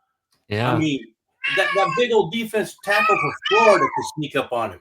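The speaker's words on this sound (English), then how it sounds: "That was my cat meowing in the background." A pet cat meows in the background of a home setting while someone talks steadily about football over it.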